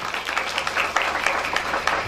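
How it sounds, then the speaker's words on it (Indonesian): A short burst of clapping from an audience at a wedding gathering, applauding the commander; scattered claps stand out over a low room murmur. "Ini tahu tepuk tangan dulu dong buat Pak Komandan."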